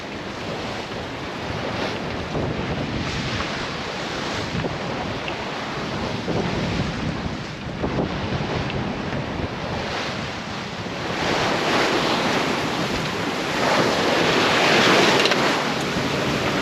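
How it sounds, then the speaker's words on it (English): Offshore, waves slap and burst against the hull of the sailboat Florence in choppy, short seas under a steady rush of wind. The sound is continuous and close, and it swells louder in the later part. "So the waves are just slapping the side of Florence, bursting up"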